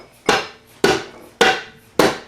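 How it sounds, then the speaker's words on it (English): A dead blow hammer taps a small metal stake while a Thunderbolt A2-4M blower is rebuilt, giving four evenly spaced, sharp close strikes with short ringing decays and no talk. "I'm going to use like a little metal stake here and a dead blow hammer"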